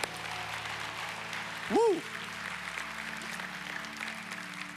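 A church congregation breaks into a burst of clapping and cheering in a large hall. Sustained applause runs throughout at moderate distance, with one loud whoop near the middle.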